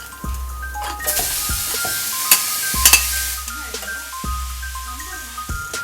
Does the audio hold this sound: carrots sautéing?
yes